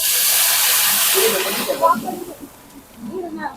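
A loud burst of hissing sizzle as hot oil tempering is poured into dal khichdi, fading after a second or two while a person talks over it.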